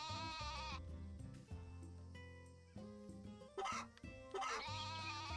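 Sheep in the farming game Story of Seasons: A Wonderful Life bleat loudly in a few wavering calls, close and alone over a soft game backdrop.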